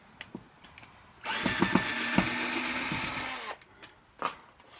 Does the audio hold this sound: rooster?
no